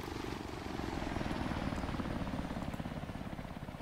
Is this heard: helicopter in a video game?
yes